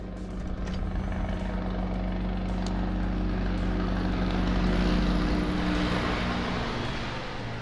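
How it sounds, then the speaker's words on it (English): A helicopter passes by outside, its rotor and engine making a steady, droning rumble that holds fairly loud and even throughout, with no one talking. "A chopper is passing by."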